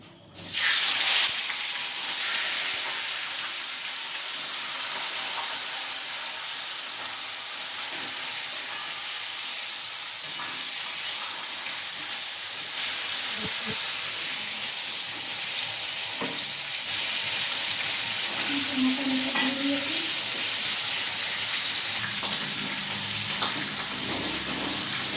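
Fish heads dropped into hot oil sizzle and spit loudly in a pan, a dense continuous frying hiss that holds steady throughout with occasional pops and a brief scrape partway through.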